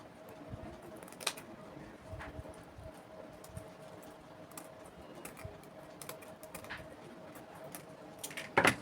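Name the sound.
cutting fabric for a turban cap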